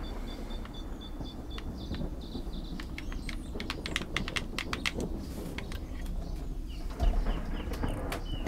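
Computer keyboard keys clatter in quick irregular bursts alongside mouse clicks, close and moderately quiet over a steady background hiss with birdlike chirps, no voices.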